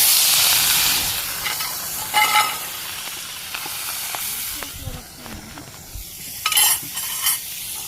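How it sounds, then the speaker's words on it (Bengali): Fish rubbed with turmeric and chili is dropped with a pinch of cumin into hot oil in a karahi, giving a hissing sizzle that settles into steady frying, with a few clatters and sharp bursts. "কড়াই গরম হয়ে গেছে, তেল দিয়ে দিই, সামান্য একটু জিরা দিয়ে দিলাম, মাছও দিয়ে দিই।"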